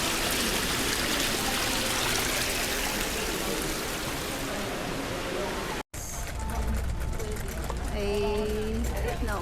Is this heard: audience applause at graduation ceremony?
no